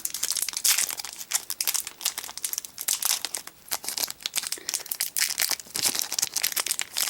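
A Sorcery Contested Realm Alpha booster pack wrapper is torn and crinkled open up close, a continuous run of sharp crackling and crumpling foil noise lasting several seconds, with no voices.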